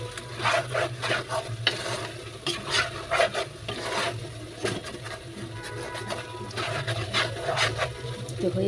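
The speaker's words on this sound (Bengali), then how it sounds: "এখানে এটাকে আবার ভালো করে নেড়ে দিব।" Beef tripe fries in a pan while a spoon stirs it in quick, uneven scraping strokes over a low sizzle, close and fairly quiet.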